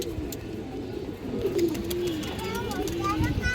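Female pigeons of running and high-flying breeds, kept in pairs, coo softly in a loft, with low repeated calls close by and a voice speaking over them.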